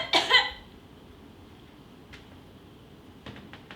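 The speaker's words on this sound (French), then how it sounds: "Toussez." A patient gives a single short, sharp cough during a medical examination, close and clear, followed by quiet and a couple of faint soft sounds.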